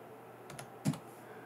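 Typing on a computer keyboard while working in After Effects: a few quiet, close key taps in a short burst, the last stroke slightly louder, over a faint steady room hiss.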